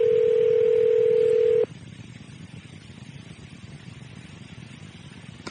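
A telephone line gives a loud, steady tone that cuts off abruptly, followed by a quieter hiss with no voices.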